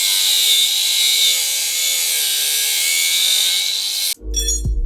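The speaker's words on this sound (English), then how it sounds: "I ended up having to cut the wrench off of the shifter" A power cutting tool slices through a wrench stuck on a motorcycle shifter, a loud continuous high whine with a gritty grinding edge that cuts off abruptly, followed by a short clatter and thud of metal.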